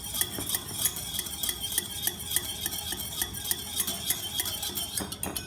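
A spoon stirs instant coffee powder into a little hot water, clinking rhythmically against the cup in quick regular strokes, close and clear, before a brief clatter at the end.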